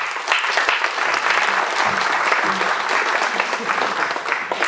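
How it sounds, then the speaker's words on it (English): A packed room breaks into sustained, loud applause at a mayor's fundraising event, with a few cheers mixed into the clapping. "very big round of applause."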